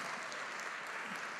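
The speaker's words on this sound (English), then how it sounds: "Oh, you want to clap for Jesus on this note." Wedding congregation clapping, a steady dense wash of applause held evenly throughout, fairly faint and distant.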